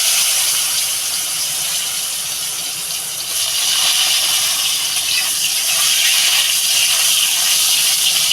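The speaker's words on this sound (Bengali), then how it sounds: "তরকারিটা বসাবো এবার আলুটা বেজে নেব আগে" Potatoes fry in hot oil, a loud, continuous sizzle and hiss held close and steady throughout, with no voices.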